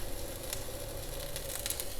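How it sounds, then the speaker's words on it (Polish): Mushrooms cooking in a pot of hearty mushroom soup, giving off a steady, even bubbling hiss for the whole stretch with no voices. "Jak widzicie, grzybki już wrzucone, gotują się."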